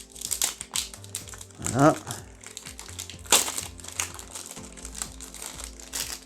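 Pokémon Lost Origin booster pack wrappers being torn open, with crinkling foil and a louder rip near the middle, close up, while someone speaks French briefly.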